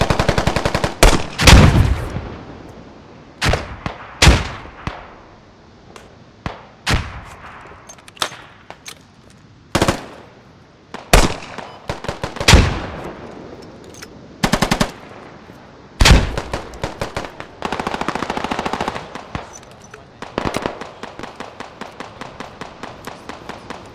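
A machine gun rattles in bursts in the Squad combat video game, mixed with single gunshots. The bursts are loud and sharp and come at irregular intervals over about twenty seconds, and there is no talk.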